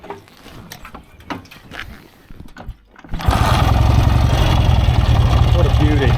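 A barn-find BSA motorcycle with a cracked engine cylinder starts after a few seconds of quieter rattling and handling, then settles into a loud, steady, close idle that holds to the end.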